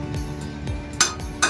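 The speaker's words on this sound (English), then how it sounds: "So I'm going to take my hammer" A hammer strikes a steel bar on edge at a steam show, two sharp metallic clanks about half a second apart over a low rumbling machinery background, with no talk.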